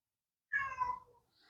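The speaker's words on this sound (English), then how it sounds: "My kitty's meowing." A pet cat gives a single drawn-out meow, close but faint and slightly muffled through a poor-quality microphone, in an otherwise quiet room.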